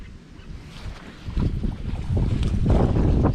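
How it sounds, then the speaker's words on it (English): Wind gusting across Lake Monroe near the spillway during winter crappie and bass fishing from a boat, a steady low buffeting rumble that swells louder in the second half, close and constant, with no one speaking. "The wind is really causing some problems for us."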